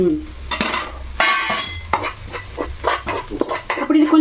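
A spoon stirs chilli powder and turmeric into a potato filling for aloo paratha in a hot pan, making repeated scraping strokes in an uneven rhythm over a soft sizzle, close up, with no talking.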